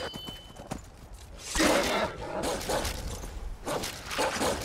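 Horse hooves clop in the video game Skyrim, with rhythmic bursts of hoofbeats and rustling movement rising and falling at close range, plus a short neigh-like sound.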